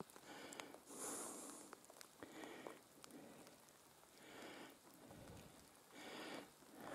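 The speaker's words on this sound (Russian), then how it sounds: "Дождь идет." Rain falls at a quarry, a faint steady patter of drops with some louder swells and occasional close taps.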